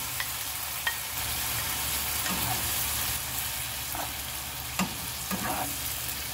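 Onion and garlic paste frying in a pan over medium flame, a steady close sizzle with a few light stirring scrapes and clicks along the way, no talk.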